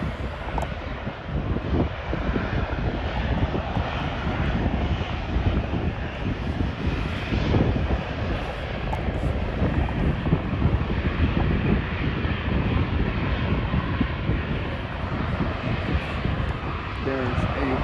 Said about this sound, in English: Here we have a 737-800, I believe.